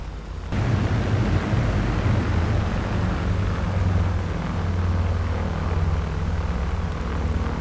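B-17 Flying Fortress engines in the A2A flight sim drone as a steady, loud, noisy propeller roar that starts abruptly and holds without letting up.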